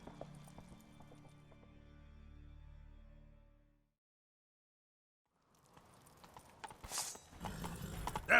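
A horse galloping in the video game The Witcher 3: a run of quiet hoofbeats that fades into a few seconds of near silence, then returns as louder, busier clip-clop with a snort or whinny near the end.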